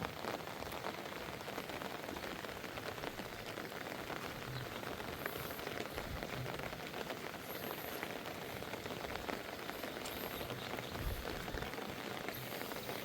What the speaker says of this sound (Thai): ฝนตกทั้งคืนเลย มันหล่นเลยนี่เนาะ